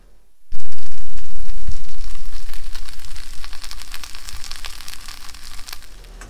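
Steak dropped onto a hot pan over a Mr. Heater propane heater, a loud sudden sizzle that settles into steady frying with popping crackles, close by and alone.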